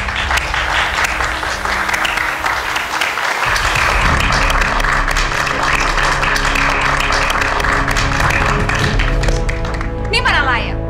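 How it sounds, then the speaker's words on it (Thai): Audience applause at a hotel owner's event: steady, dense clapping from a crowd runs throughout, with people talking over it. "ขอเสียงปรบมือหน่อยครับ"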